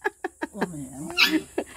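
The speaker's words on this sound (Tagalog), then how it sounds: "Ang takot yung mga aso nito." A frightened dog whimpers in a string of short, high whines and yelps, close and fairly clear, with a longer wavering whine in the middle.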